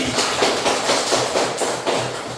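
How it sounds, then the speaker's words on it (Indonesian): A classroom of primary school students claps for a classmate named Randy, with a quick, fairly loud run of rhythmic, evenly spaced claps close by. "Nah, tepuk tangan dulu untuk Randy."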